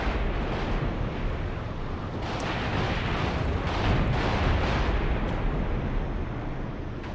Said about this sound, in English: Got some more jets striking targets.